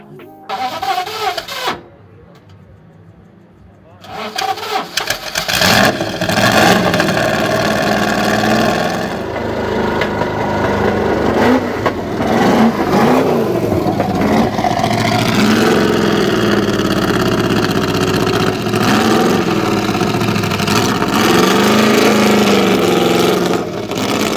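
A vintage endurance race car engine revs loudly and continuously for most of the stretch, after a short quieter opening with a brief burst, with rising and falling throttle sweeps up close.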